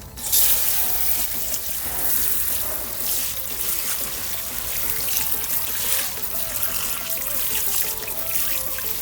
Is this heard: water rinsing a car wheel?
yes